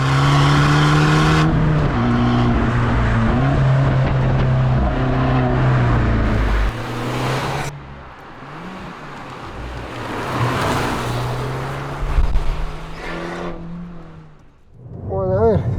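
A 2023 Abarth 695 Competizione with 180 hp, a limited-slip differential and Michelin Pilot Sport 3 tyres accelerates hard, its engine note climbing through several gear changes, loud and close, with a voice talking partway through.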